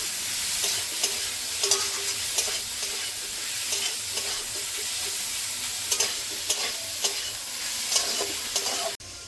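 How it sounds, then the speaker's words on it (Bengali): Paneer cubes sizzle in a pan while a spatula stirs and scrapes them at regular intervals, a close, steady frying hiss with soft clinks and no voices. "পনির দিয়ে দিচ্ছি। আরো কিছুক্ষণ ভেজে নেব।"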